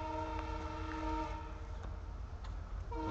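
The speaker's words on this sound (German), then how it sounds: "und der Zug kommt." A train arrives at a railway level crossing on the Goa to Hampi route, its horn blaring a rich multi-tone blast over a constant low rumble, clear and fairly close.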